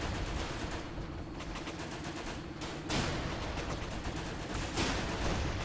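Dense rapid gunfire from rifles and automatic weapons in the war game Running With Rifles, with overlapping bursts and heavier volleys rattling on without pause.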